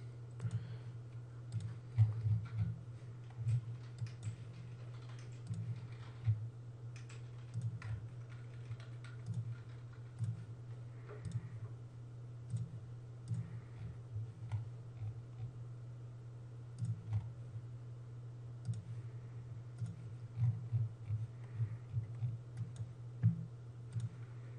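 Quiet computer mouse clicks and key presses while working in meshing software, a sparse irregular patter of soft clicks over a steady low electrical hum, with no voices.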